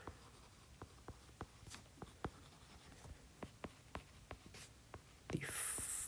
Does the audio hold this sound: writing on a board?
yes